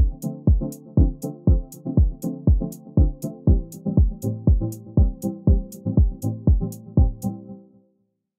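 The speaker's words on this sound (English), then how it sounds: "So before, we have a simple kind of house pluck that sounds like this." A simple house pluck synth patch from the Vital soft synth plays a steady rhythmic pattern of short, punchy plucked notes, each decaying quickly, repeating evenly for several seconds before the final note rings out.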